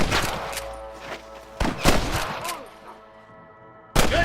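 Gunfire in Red Dead Redemption: loud, close bursts of rapid shots rattling across the first half, a lull, then a sharp new blast, with faint shouted voices mixed in.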